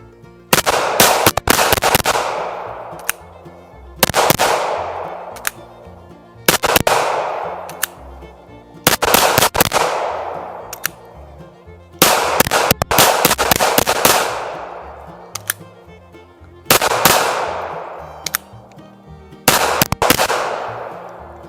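A Kel-Tec PMR30 pistol fires through a full magazine in short, sharp bursts of several shots, separated by pauses where the gun jams, loud and close with no talking.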